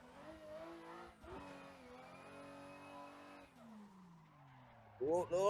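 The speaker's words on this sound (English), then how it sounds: "let's do a little bit of drifting in school to warm up" A car drifts around the Ebisu school course in Assetto Corsa VR, with a sustained high engine note rising and falling through the slide and a sharp tyre squeal at the end, while a voice talks faintly underneath.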